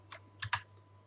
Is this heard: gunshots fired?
no